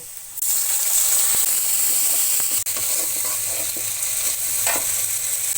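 Ginger, cumin, garlic and onion paste hits hot oil with a sudden loud sizzle, then fries with a steady hiss broken by occasional stirring clicks.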